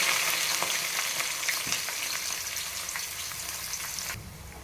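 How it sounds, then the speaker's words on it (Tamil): Onions sautéing in oil in a pot for mutton biryani: dense, steady sizzling and crackling close by, with faint stirring scrapes, fading slightly near the end, no voices. "வெங்காயம் நல்லா வதங்கிடுச்சு இஞ்சி பூண்டு பேஸ்ட் சேர்த்துக்கோங்க"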